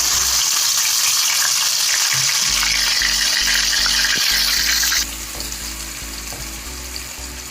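Onion paste frying in oil in a kadai for a korameenu fish curry gives a loud, steady sizzle that drops slightly partway through, with a low hum beneath and no talking.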